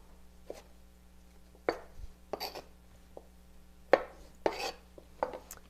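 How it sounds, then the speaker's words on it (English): A knife dices vegetables on a cutting board for a kale salad, giving scattered, uneven clusters of sharp chops close up with short pauses between them. "We just keep dicing."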